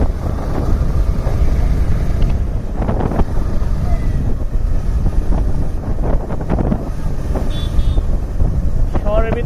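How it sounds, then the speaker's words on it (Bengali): Wind rushing over the microphone while riding a Suzuki Gixxer SF Fi ABS motorcycle on an open road, a loud constant low roar with a voice talking over it. "ন্যাচারাল ওয়েদার প্লাস বাতাস সবকিছু মিলে খুবই ভালো লাগতেছে বাইক ড্রাইভ করে"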